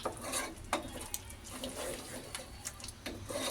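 A spoon stirs thick curd into an egg biryani mixture in a metal pot, giving faint, irregular scraping and clinking strokes against a quiet background.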